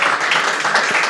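An audience applauds at a poetry reading, dense loud clapping that holds steady and close throughout.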